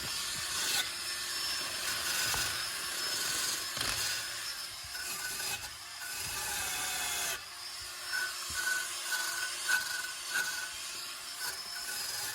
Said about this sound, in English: I like to go over it with a wire brush just to get in those places